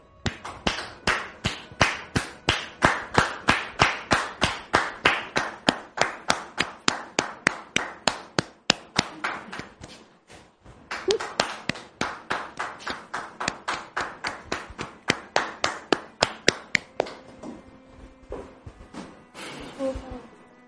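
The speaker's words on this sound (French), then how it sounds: "Sous vos applaudissements, s'il vous plaît." A TV studio audience claps in a steady rhythmic unison beat, loud and close, pausing briefly about halfway before resuming and fading into looser clapping near the end.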